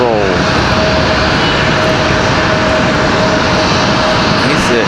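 A Frontier Airbus A321neo rolls for takeoff at Raleigh-Durham International, jet engines roaring loud and steady with a rising whine, while someone talks over it.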